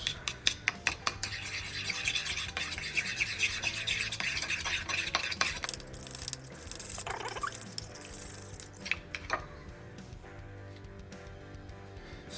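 Hands mixing 80-20 ground chuck with Kewpie mayo, smoked paprika and spices in a bowl: soft, wet squishing and rubbing with rhythmic stirring, close and quiet, with no talking.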